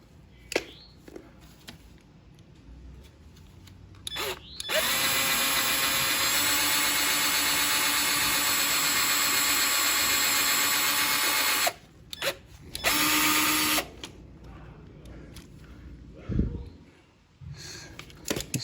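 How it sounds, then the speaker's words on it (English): A power drill with a very small bit starts a hole in the crank seal of a Craftsman 163cc Briggs & Stratton engine. It whirs loudly and steadily for about seven seconds, then gives a short second burst, with quieter handling noises around it. "what I'm gonna do is start a hole in the seal so that I can then put a drywall screw in"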